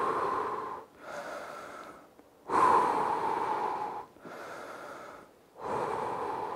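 Heavy, deep breathing during a rest break in a home fat-loss workout, slow rhythmic inhales and exhales close to the microphone, each breath lasting over a second with brief gaps between.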